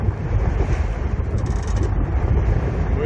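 Strong wind buffeting a sailboat under way on open water, a steady loud roar with gusty rumble and sea wash throughout, no voices.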